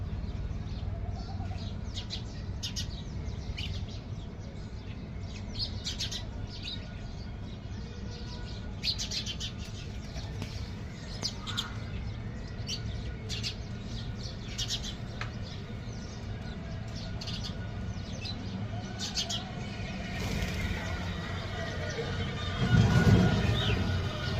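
Many small birds, including mynas gathered around scattered feed, chirp and twitter constantly, with rapid overlapping calls near and far over a steady outdoor background.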